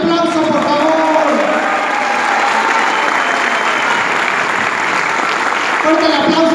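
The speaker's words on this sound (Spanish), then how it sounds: "¡Fuerte el aplauso, por favor!" Loud, dense applause from a crowd at a corporate awards gathering in an event centre in Pachuca, a steady wash of many hands clapping for several seconds with faint cheering and voices mixed in, then easing slightly at the end.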